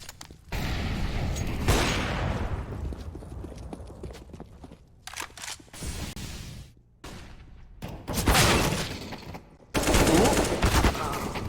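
Counter-Strike: Global Offensive match with bursts of rapid automatic gunfire from an MP9 and other weapons, sharp and fairly close, separated by short quiet gaps.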